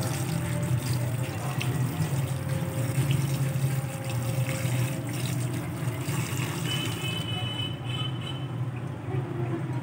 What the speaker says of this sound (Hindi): हम इसको अच्छी तरह सादे पानी से वॉश करेंगे ताकि जो टाटरी का खट्टा पानी है वो ख़त्म हो जाए।